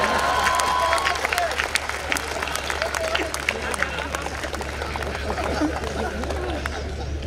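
Audience applause at a satirical poetry recital, a steady wash of clapping mixed with crowd murmur and chatter, moderately loud and sustained throughout.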